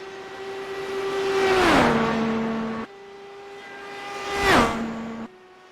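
In an IndyCar racing video game, a race car engine screams past twice on its up-to-speed lap, each high whine building, then dropping sharply in pitch in a Doppler sweep, with abrupt cuts between passes.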